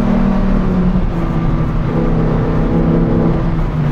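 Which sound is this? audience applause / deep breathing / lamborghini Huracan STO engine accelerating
lamborghini Huracan STO engine accelerating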